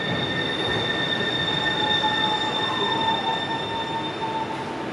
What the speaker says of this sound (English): I think the metro trains sound really cool.